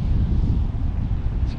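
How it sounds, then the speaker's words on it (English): Steady wind blows across an outdoor microphone in a garden, a dense low rumble with gusty buffeting that keeps going through the whole stretch and never drops away. "Sorry for the wind, it's a windy day."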